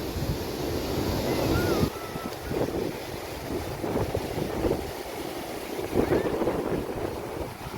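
Sea waves and wind at Dandi beach in Navsari, Gujarat: a continuous roar of surf with gusting wind buffeting the microphone, close and loud, with no talking.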